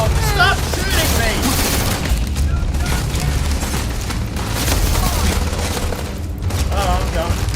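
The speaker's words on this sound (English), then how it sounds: "I'm getting into a gunfight with the Navy." Gunfire from a firefight with the Navy in the video game Starfield, dense bursts of shots and booms rolling continuously and loudly, with speech mixed into the clamor.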